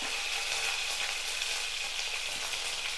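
A bunch of wet curry leaves hits hot oil for a chutney, making a dense, even, close sputtering hiss that holds steady for the whole few seconds, with no one talking.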